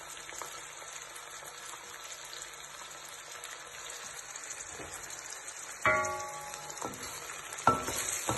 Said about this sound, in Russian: начнет жариться, закинем мясо,